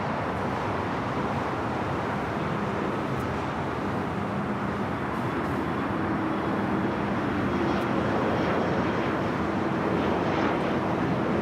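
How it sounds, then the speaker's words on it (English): An ITA Airways Airbus A350 lands at Los Angeles airport, giving a steady, broad, loud roar of jet engines and rushing air that holds for the whole stretch. "ITA A350 now landing"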